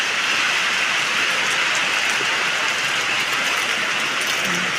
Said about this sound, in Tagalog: At ang akin pong kalamansi napapatakan po ng tubig na galing po doon sa bubong.